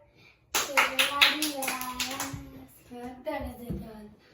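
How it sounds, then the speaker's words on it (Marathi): A small group claps together in a home during a children's dance competition, a burst of close, fast hand claps lasting a couple of seconds, mixed with children's voices talking. "सगळ्यांनी आता टाळ्या वाजवा"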